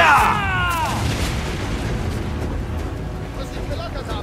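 Ship cannons fire in the naval combat of Assassin's Creed 4 Black Flag, a loud booming blast at the start that rolls into a long rumbling tail under game noise, with a voice partly over it.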